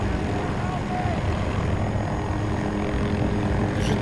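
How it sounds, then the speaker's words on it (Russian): A helicopter in the video game Battlefield 2042 hums with a steady rotor and engine drone throughout, close and constant, while a player talks over it. "Вроде так на вертолете летать сложнее, чем в четверке и в тройке."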